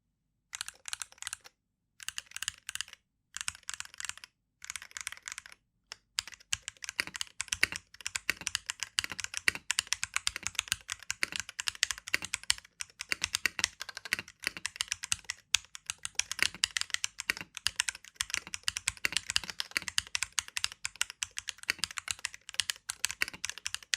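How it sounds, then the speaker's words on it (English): Typing on a MelGeek MADE68 Pro magnetic-switch keyboard with TTC King of Magnetic switches and preloaded stabilizers: a few separate keystrokes, then a long, dense run of fast, crisp clacks, close-miked and steady, with no voices. "Typing on the keyboard feels great too, as the keyboard comes with the TTC King of Magnetic Switch."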